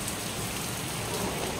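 Steady heavy rain pours down outdoors, a loud, unbroken wash of drops hitting surfaces that fills the whole short stretch.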